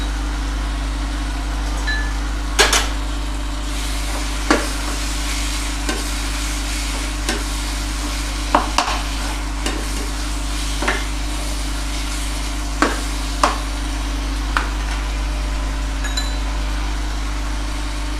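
Finely chopped ginger fries in a pan for a chicken curry, a steady hiss over a constant low hum, with periodic scraping knocks of a spoon stirring it at intervals.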